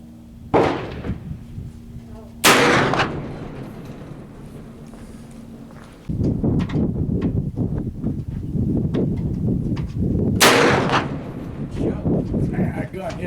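Gunshots fired at a target: two sharp, loud cracks a couple of seconds apart, then a third several seconds later, with people talking and moving around between them.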